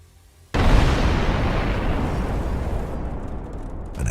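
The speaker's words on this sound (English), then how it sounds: "An enormous explosion of Russian missiles." An ammunition depot full of missiles explodes in a sudden massive blast after a moment of quiet, followed by a sustained, roaring rumble that slowly fades over several seconds.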